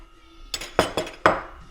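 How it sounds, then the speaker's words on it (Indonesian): A metal pot and bowl, with a strainer set on top for steaming food in a village kitchen, clink together four times in quick, bright, close knocks against a quiet background. "ini panci, terus aku pakai mangkok gini, ini taruh saringan di atas sebagai saringan"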